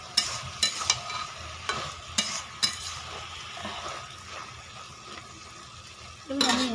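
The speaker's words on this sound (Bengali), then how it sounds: "কিছু সময় ধরে আমি সবজিটা কষিয়ে নিয়েছি।" Vegetables sauté in a pan, with a soft continuous sizzle under regular scraping strokes of a spatula, steady and fairly close, ending with a louder clatter.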